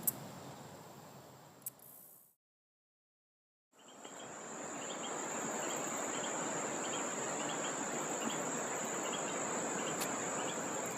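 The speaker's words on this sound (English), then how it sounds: "I began to notice the cicadas and crickets and the birds in the background making their beautiful music" Dense, continuous chirring of cicadas and crickets fills the air, with a high steady whine above it; it drops out briefly, then returns at full strength.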